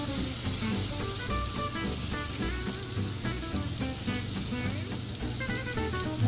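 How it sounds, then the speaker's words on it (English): Butter melting in a pan over medium heat gives a steady, bubbly sizzle with fine crackles, close and continuous, with no talking. "just a good medium heat to melt that butter down"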